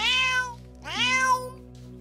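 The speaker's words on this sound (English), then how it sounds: "There's Kitty." A cat meows twice in the South Park video game, two clear rising-falling calls close up with a steady low hum underneath.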